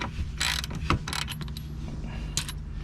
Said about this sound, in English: T30 TORX tool in it and then use a 24mm spanner to actually undo it like this